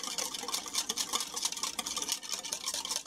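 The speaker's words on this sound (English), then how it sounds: "So just whisk it," Whisking a sauce of oyster sauce and white sugar in a bowl, a quick scratchy rhythmic swishing and clinking, close and steady for a few seconds.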